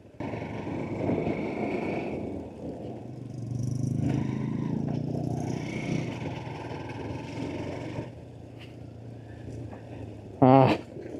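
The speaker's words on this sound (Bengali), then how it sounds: "বাইক দিয়ে আমরা ট্রেক করছি।" A motorbike rides along a trek route in Sreemangal, its engine a low, steady rumble that swells and eases over rough ground, with rattling and scraping noises and a sharp clunk near the end.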